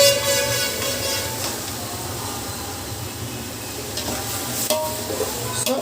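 Marinated quail goes into a thick frying tomato gravy, loud sizzling with stirring scrapes and occasional sharp utensil clinks over a steady hiss.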